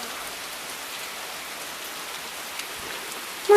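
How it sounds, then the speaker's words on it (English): Steady rain falls outdoors where children are playing, a soft, even hiss of drops lasting throughout with no voices, ending in a brief close bump. "We having fun in the rain, boys?"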